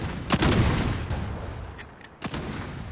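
Sniper rifles fire during a competitive video game match: two sharp, loud shots, one near the start and one near the end, each trailing into a rumbling decay over steady game noise.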